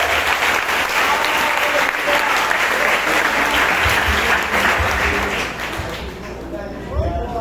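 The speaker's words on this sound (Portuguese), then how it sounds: "vamos receber o pastor Luan com uma forte salva de palmas para você" Sustained applause from a church conference audience welcoming a pastor to the stage, loud and dense throughout, easing slightly near the end with a few louder claps.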